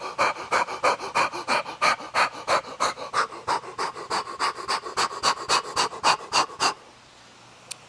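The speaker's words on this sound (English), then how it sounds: "pant for 15 seconds." Rapid rhythmic panting breaths from a person doing a breathing exercise, about two dozen quick even puffs close to the mic, stopping abruptly near the end before a quiet pause.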